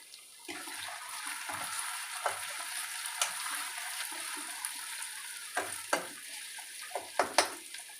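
Ginger sizzles steadily in a hot pan while a spoon stirs it, scraping and knocking against the metal in irregular bursts over a continuous frying hiss.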